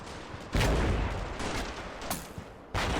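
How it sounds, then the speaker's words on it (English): 23mm cannon fire in the war game Combat Mission Shock Force 2, heavy booming bursts that start abruptly, ring on and then stop, loud and close. "That's why we like 23mm cannon fire."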